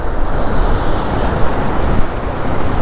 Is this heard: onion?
no